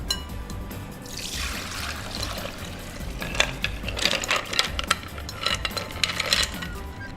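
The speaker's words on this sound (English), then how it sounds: "Drain the clams." Soaking water drained off clams in a kitchen: a steady pouring rush that turns into trickling and dripping, with clinking shells rattling close by through the last few seconds.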